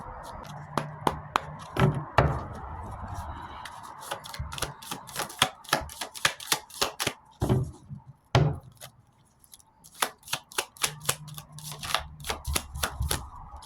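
Cards are riffled and shuffled again and again, with crisp rapid flutters and taps in quick bursts and occasional heavier knocks, no talking.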